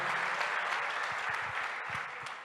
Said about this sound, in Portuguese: Você pode aplaudir o Cordeiro que te comprou?